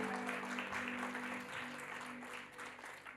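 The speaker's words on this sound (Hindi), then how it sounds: "तो आइए पास्टर आसाफ के लिए जोरदार ताली बजाकर प्रभु की स्तुति करें।" Church congregation clapping together in praise for a pastor at a jubilee service, a steady wash of applause filling the hall for a few seconds over a faint sustained hum.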